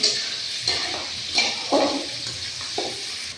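Potatoes frying in a pan for a Bangladeshi home-cooked dish, a soft continuous sizzle broken by a few scraping stirs of a spoon at irregular intervals, close and without speech.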